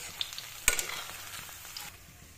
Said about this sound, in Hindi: मेरा पनीर फ्राई हो चुका है, अब मैं इसको निकाल लेती हूँ